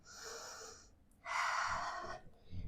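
Close, loud breathing during a held position in a low-impact full body strength workout with weights at home: a long airy breath, a short pause, then a stronger, noisier breath, with a faint puff at the end.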